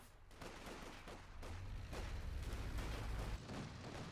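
Sturmgewehr assault rifle fire from grenadiers in a World War II strategy video game, heard as faint, distant rattling bursts that swell into a denser volley before easing off.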